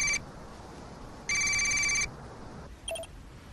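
An incoming FaceTime call rings on a phone at night: two bursts of a bright electronic ringtone, a short one then a longer one, followed by a faint chime, over quiet room tone.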